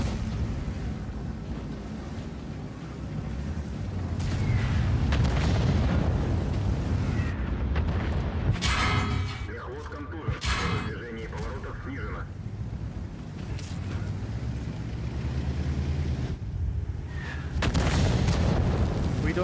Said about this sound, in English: artillery, dude.